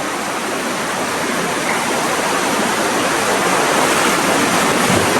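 Underground river water rushing through Goa Petruk cave in Kebumen, a steady, loud, broadband roar of flowing water that continues unbroken throughout, with no voices.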